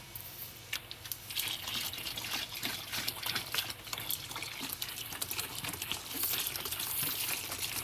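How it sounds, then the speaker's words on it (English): Water pours steadily into a homemade liquid laundry detergent mixture, a close continuous splashing gush with bubbly trickling detail and no talking. "Let's add more water."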